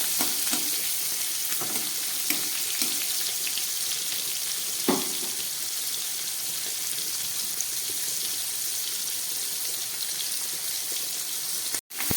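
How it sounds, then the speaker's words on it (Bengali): Prawns rubbed with salt and turmeric fry in hot oil left over from frying lentil dumplings, giving a steady, close, even sizzle with scattered small crackles and pops, with no talking. "এই বড়ি ভাজার তেলের মধ্যে আমি কয়েকটা চিংড়ি মাছ ভেজে নিচ্ছি"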